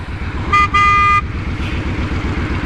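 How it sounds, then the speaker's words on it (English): A 2010 Honda Fury motorcycle horn honks twice in a short sequence, a brief toot then a longer blast, loud and close over a steady idling engine rumble. "Let's see what the horn sounds like on this thing."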